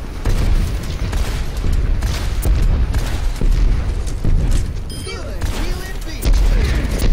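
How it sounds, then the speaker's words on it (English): In Overwatch, a pulse bomb bursts among heavy, booming gunfire and explosions in a loud, chaotic firefight, with repeated blasts and bursts crowding the action while a player talks over them. "Pulse bomb."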